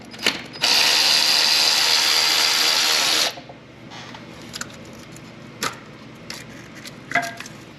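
A ratchet with a 10 mm socket loosens a bolt on a Hyundai 3.3 V6 engine, giving one loud, steady buzzing whir lasting about three seconds, followed by a few faint clicks and taps.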